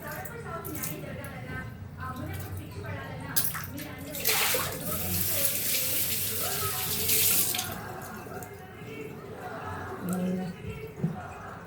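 Tap water running and splashing over a pressure cooker being cleaned at a sink, a loud rushing flow that swells in the middle, with a person talking over it.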